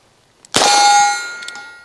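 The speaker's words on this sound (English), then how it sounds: "I'm just going to be shooting at steel, nothing too crazy" A Ruger SP101 revolver firing .32 H&R Magnum strikes a steel target, producing one sharp metallic clang that rings on and slowly fades.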